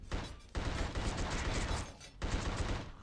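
Gunfire in The Suffering video game: two long, dense bursts of rapid shots separated by short gaps, a brief pop opening ahead of them, mid-level and without voices.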